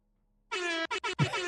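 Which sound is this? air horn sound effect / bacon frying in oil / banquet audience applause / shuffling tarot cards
air horn sound effect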